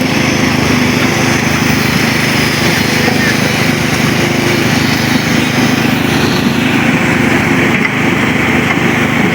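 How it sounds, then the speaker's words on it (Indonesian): A small jet pump engine drawing water and a generator run together during riverbank clearing work in Bekasi, a loud, steady mechanical drone that continues without a break throughout. "Tadi nyalain mesin jet pump soalnya buat nyedot air. Lagi nyalain genset tuh."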